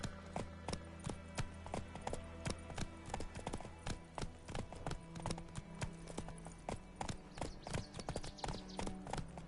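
Roach the horse gallops in The Witcher 3, a steady rapid clip-clop of hooves pounding close and loud in a driving rhythm throughout, with a low game soundtrack underneath.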